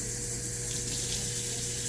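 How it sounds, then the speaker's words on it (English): Water from a tap pours steadily into a cooking pot, a continuous close splashing rush with no pauses. "I'm gonna be putting 6 cups of water."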